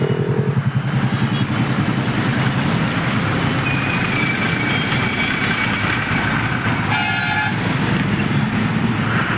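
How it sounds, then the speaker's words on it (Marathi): Steady stream of cars, motorcycles and trucks rolling along the NH4 highway near the flooded Panchganga river at Kolhapur, a continuous roar of traffic with a couple of horn toots cutting through partway. "हायवेवरून अजून गाड्या जात आहेत."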